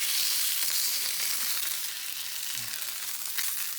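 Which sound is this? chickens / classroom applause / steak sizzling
steak sizzling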